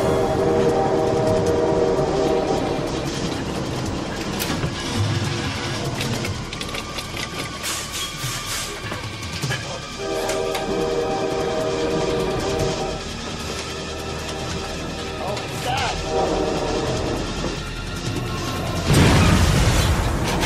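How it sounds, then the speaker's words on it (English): A train rumbles loudly past at close range, a dense continuous roar of wheels and engine with a whistle tone sounding over it. "a train came roaring down the track at just that moment"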